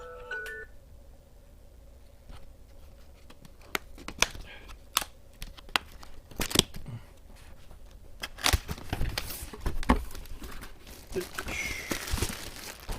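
Unboxing of an SG907max camera drone package, with scattered close crinkling of plastic wrap, cardboard rustling, clicks and handling taps, sparse at first and busier later, no talk.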